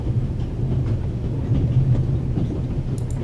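A moving train in The Raven adventure game rumbles in a steady, low, continuous drone, with faint rhythmic rattling and no talking.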